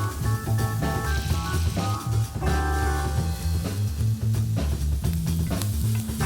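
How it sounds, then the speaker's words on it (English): Foraged mushrooms sauté in a pan of butter and oil, giving a steady, close frying sizzle that runs unbroken for about six seconds with faint stirring and no talking. "we'll start sauteing them in some butter and some oil."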